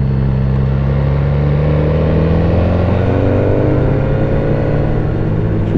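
Motorcycle riding along the Transalpina mountain road in Romania, a loud, continuous engine drone with rising and falling pitch as it accelerates, close and steady with no talk.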